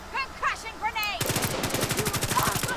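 Automatic rifle fire in Tom Clancy's The Division 2, a rapid, loud burst of shots after a brief stretch of someone speaking in Turkish.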